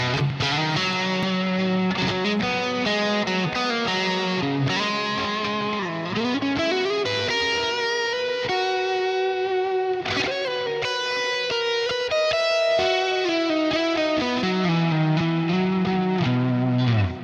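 Electric guitar with split-coil pickups plays a steady stream of sustained, layered notes through effects that add distortion and chorus shimmer, loud and continuous with shifting chord tones and no voices.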